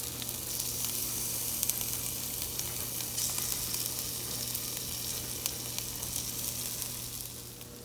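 Shrimp and spinach sizzling in a hot pan, a steady dense frying hiss with occasional faint scrapes of stirring, close and continuous throughout, no voices.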